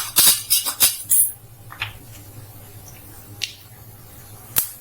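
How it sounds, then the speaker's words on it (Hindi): Cumin and mustard seeds hit hot oil in a pan, giving a quick cluster of sharp crackling pops at the start that thin out to a few faint, scattered spits. "ये हमने कुछ जीरा डाले, इसके साथ हम थोड़ी सी राई डालेंगे,"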